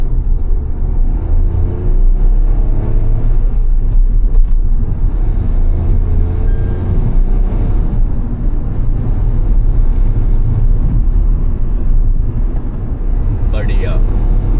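Engine and road noise from a Tata Punch facelift compact SUV, heard from inside the cabin while driving: a steady, moderately loud low rumble that runs throughout the clip.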